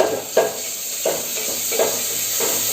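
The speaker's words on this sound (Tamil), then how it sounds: "நம்ம வெங்காயம் தாளிக்கிறதுக்கு ஒரே ஒரு வரமிளகாய், கருவேப்பிலை இதை போட்டு" Onions frying in hot oil with a dried red chilli and curry leaves for a chana curry tempering, a steady close sizzle broken by about four soft stirring scrapes of the spoon in the pan.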